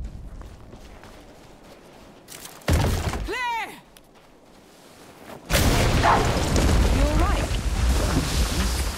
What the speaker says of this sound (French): Explosion d'obstacles.